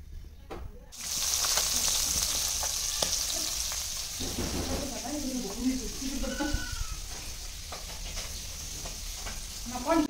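Singhi fish fry in a pan with a steady, close sizzle and crackle that runs throughout, with bursts of stirring noise partway through.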